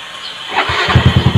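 Motorcycle engine cranking with a starter whine, then catching and firing into quick, loud, close pulsing beats as it begins to run, with no voices.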